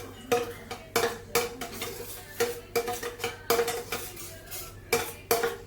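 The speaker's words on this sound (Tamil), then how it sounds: "நல்லா கட்டு இல்லாத கலக்கிக்கோங்க" A spoon scrapes and knocks rhythmically against a pan while stirring a butter and maida flour roux over low heat for pasta, giving repeated close metallic clatters with a faint sizzle beneath and no talk.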